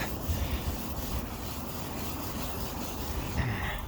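A car headlight lens is rubbed clean with mosquito repellent, giving a continuous dry, hissing scrub of close, steady strokes without pause and no voices.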